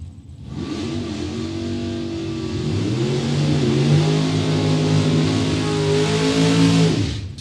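Drag racing cars at a Super Pro bracket event roar down the track, a loud sustained engine howl rising in pitch as they launch and accelerate, then cutting off abruptly at the end.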